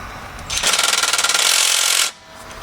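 A tool loosens rear axle cover bolts on a 2016 GMC Sierra, giving one rapid rattling burst of about a second and a half, close and loud, between quieter moments.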